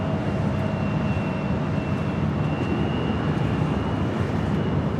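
Jet airplane taking off from runway 24 Left at LAX, a continuous heavy broadband roar with a faint steady whine, distant yet loud and unbroken, no talk.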